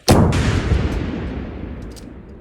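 A Melara howitzer of the Ukrainian National Guard fires a single loud, close shot, a sharp blast that rolls into a long fading rumble with faint echoes, no talk.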